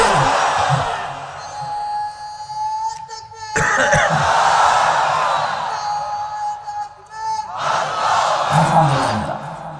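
A large crowd at a Bangladeshi religious sermon gathering roars a loud, sustained takbir chant in unison, in several swelling waves over a continuous amplified background.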